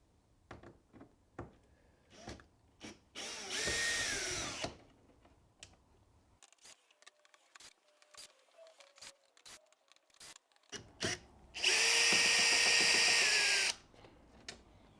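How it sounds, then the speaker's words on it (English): A power drill backs eight Phillips head screws out of the rear of a 2018-2021 Subaru WRX/STI grille: two bursts of whirring drill, one short and one longer, separated by clicks, taps and handling noises, close and with no talk. "We're going to start by removing the 8 Phillips head screws that are located on the back here."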